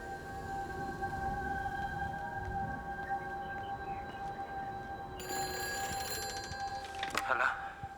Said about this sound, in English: I heard a phone ringing.